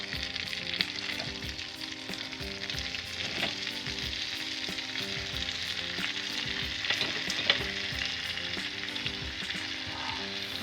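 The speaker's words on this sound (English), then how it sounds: "raise your heat to a medium high and start adding your cabbage back" Cabbage fries with caramelized onions in bacon fat over medium-high heat, giving a dense, loud, continuous sizzle with crackles and stirring scrapes throughout and no voices.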